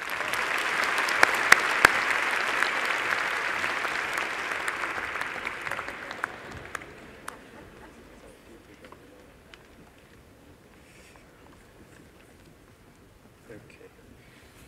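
Loud applause from an audience at an engineering graduation ceremony, with occasional sharp claps at the start. The sustained clapping fades out over several seconds to quiet room noise.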